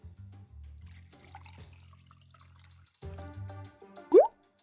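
Oil is poured into water for a DIY rainbow experiment, ending in one sharp, close plop with a brief drip over quiet background music.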